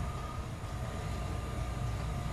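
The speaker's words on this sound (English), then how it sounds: "This is a Brown Line train to Kimball." A CTA Brown Line elevated train rumbles along in steady motion toward Kimball, heard from inside the car as a constant low drone with a faint high whine.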